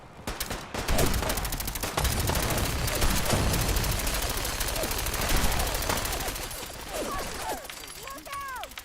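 Gunfire in a Fallout video game fight comes as a steady stream of loud, close automatic shots, with shouting voices breaking through toward the end.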